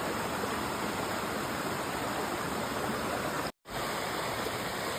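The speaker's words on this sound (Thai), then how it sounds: "น้ำตกคลองน้ำไหลนะคะ" Khlong Nam Lai waterfall in Khlong Lan, Kamphaeng Phet, Thailand, roars steadily up close, a dense rushing hiss of falling water that cuts out for a split second before continuing.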